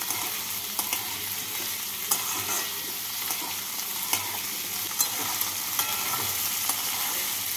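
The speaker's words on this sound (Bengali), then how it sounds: "এই সবজিগুলোকে ভেজে তুলে রাখবো।" Chopped cauliflower, beans and peas fry in hot oil for a vegetable dal, giving a steady bright sizzle broken by regular clinks and scrapes of stirring.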